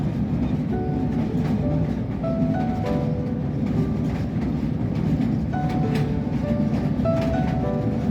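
A train rolls across the Bhairab railway bridge over the Meghna river, its steady low rumble and rhythmic clatter filling the whole stretch with no talk.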